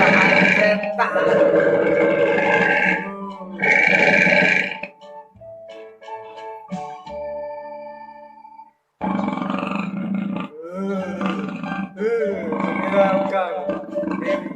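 A ghost tiger roar ringtone plays loud and near, long growling roars with a stretch of electronic tones and sparse sounds in the middle before the roaring returns.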